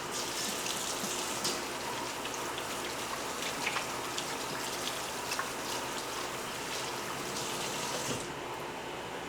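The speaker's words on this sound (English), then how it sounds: "I'm gonna wash my hands before I grab my camera." Tap water runs steadily into a sink during handwashing, a close hissing splash with small shifts as hands move through the stream, stopping abruptly near the end.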